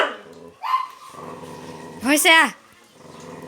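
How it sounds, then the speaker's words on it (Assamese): A dog inside a village house barks and growls in a short, sharp burst, with people talking around it before and after. "সেইফালে এটা কুকুৰ আছে। সেইটোক চাই চাই ভিতৰৰ পৰা ভুকি আছে।"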